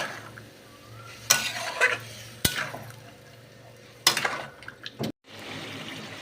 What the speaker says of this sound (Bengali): গ্যাসটা সিমে দিয়ে খুব ভালো করে কষিয়ে কষিয়ে রান্না করব